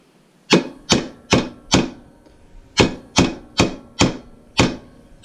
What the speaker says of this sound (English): So we're just going to put it on the vise there and bash it.